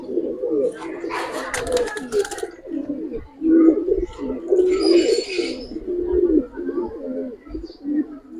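Giribaz pigeons coo near and steadily in overlapping, throaty rolling calls, with some wing flutter and scuffling noise and a voice in the background.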